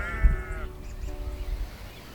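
A single sheep bleats once, close and clear, then fades into quiet rustling background.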